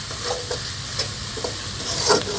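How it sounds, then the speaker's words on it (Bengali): Onions, chilli, turmeric and spices frying in oil as they are cooked down, a dense close sizzle broken by repeated stirring scrapes every half second or so. "দেখেন কষানি আসছে, তেলের জোয়ার চলে এসছে, কত সুন্দর মশলা হয়েছে।"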